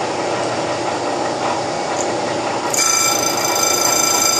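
Loud, steady metallic whir of a Bridgeport milling machine spinning near 1,300 RPM while resurfacing a warped brake rotor on a rotary table, turning sharper and brighter near the end as the cut engages.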